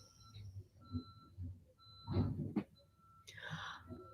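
Steady reversing beeps from a garbage truck repeat at an even pace, fairly distant, with a few thuds and clanks of heavy machinery mixed in.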